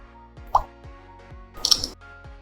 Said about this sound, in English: You also get the option to choose different camera UI modes, the accent color options, and different camera sounds.